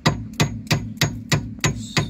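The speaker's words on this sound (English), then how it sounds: "Just putting my hammer here, tapping it" A hammer taps a screw to loosen it, seven sharp, evenly spaced metallic knocks about a third of a second apart, close and loud with no talking.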